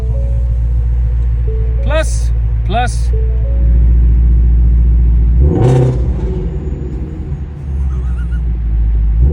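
A Lamborghini Aventador SVJ engine holds around 2,500 RPM as a loud, deep, continuous rumble, with a voice speaking briefly over it and a couple of short chirping tones early on.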